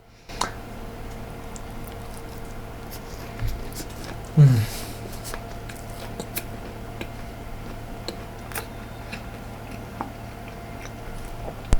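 Someone chews and eats honey dry fruit ghevar, a Rajasthani sweet, with soft close-up bites and squishy chewing sounds scattered over a quiet room, one louder bite partway through.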